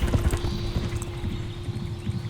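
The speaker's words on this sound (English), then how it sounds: "I fucking love the sound of a galloping horse." Hooves of a galloping horse beat in quick, uneven clip-clop thuds close by, loud and continuous, with a faint steady tone in the background.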